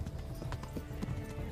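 A horse galloping in the video game Kingdom Come Deliverance, its hooves beating in a quick, irregular clip-clop rhythm with several distinct hoof strikes over a low rumbling backdrop and no talk.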